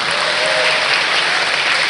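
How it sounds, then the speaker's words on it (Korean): Steady, dense applause from an audience at a Jecheon ceremony marking a day for people with intellectual and developmental disabilities, filling the room evenly at full volume throughout. "한번 큰 박수 부탁드립니다"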